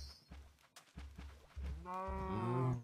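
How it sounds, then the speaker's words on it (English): Minecraft cows moo as a herd is pushed across a river, a short run of low thuds and splashes leading into one loud, drawn-out bovine moo near the end. "Come on, cows. You can swim."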